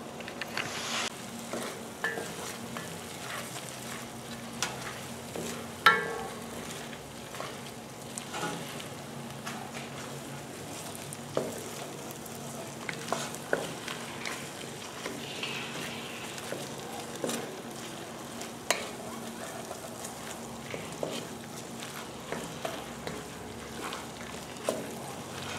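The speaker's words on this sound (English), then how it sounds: "Okay, put some mushrooms off in there. I'm gonna stir those around." Mushrooms sizzle in a pan while being stirred for blackened crawfish pasta, a steady quiet frying hiss broken by scattered scrapes and clicks of the utensil against the pan.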